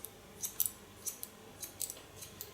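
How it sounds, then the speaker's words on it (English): Large Kione scissors snip through hair in a straight line during a blunt bob cut, giving a series of crisp close metallic snips in an uneven rhythm, about ten cuts, alone with no talk. "And with my large Kione scissor, I cut a straight line."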